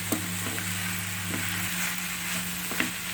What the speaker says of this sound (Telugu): ఇది కూడా మళ్ళీ ఒకసారి కలిపి పెట్టి మూత పోసేసుకోవాలి